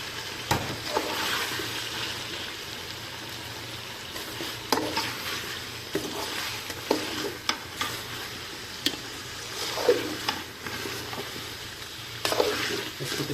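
Chicken and cauliflower are stirred together in a pot over a soft, steady sizzle, with a spoon scraping and knocking against the metal in scattered bursts of clinks and rattles.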